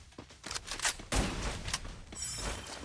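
Gunfire rattles in quick bursts and single cracks during a battle royale esports tournament match. The shots are dense and punchy over game background sound.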